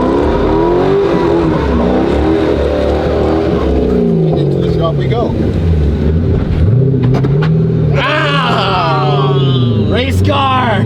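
A drift car's engine revs loudly and continuously, the pitch rising and falling in waves, with excited voices talking and shouting over it near the end.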